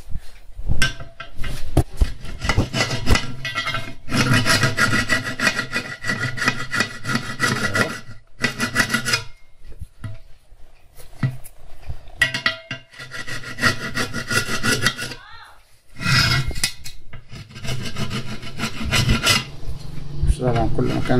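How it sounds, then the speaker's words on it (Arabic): Steady, close rasping scrubs on a Chinese 150cc motorcycle's wheel rim come in long rough stretches broken by brief pauses, fairly loud and without talk. "ننظف الجنط من هنا كده"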